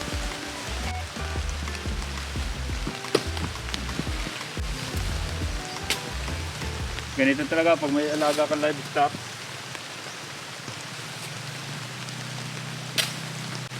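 Rain falls steadily on a goat farm, a constant soft hiss beneath someone talking, with a few brief sharper sounds partway through.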